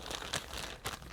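Plastic bags and bubble wrap, held with rubber bands around packed figures, crinkle during unpacking in short, close, fairly quiet bursts.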